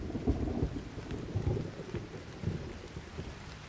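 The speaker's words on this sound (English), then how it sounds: "Raindrops fall from the leaves and soak the logs below." Steady rain drips from tree leaves onto stacked logs near Yamaoyaji trees, a dense, close patter with soft irregular thuds of heavier drops and no voices.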